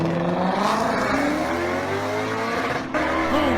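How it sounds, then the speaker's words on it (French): A V8 engine revs loudly and close, its roar climbing and falling in pitch with a slight squeal, and no speech over it. "à la fin ça ressemblait plus à un moteur V8."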